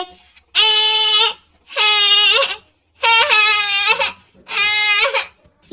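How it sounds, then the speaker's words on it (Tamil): A baby cries loudly and close up in four long wailing bursts separated by brief pauses for breath. "இந்த பாப்பா வேற இப்படி அழுதுட்டே இருக்கே"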